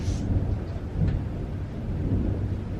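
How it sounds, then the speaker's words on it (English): Loud thunder during a rainstorm, a deep sustained rumble rolling on for the whole stretch with rain hissing underneath and no voices. "Oh my goodness, that thunder is so loud."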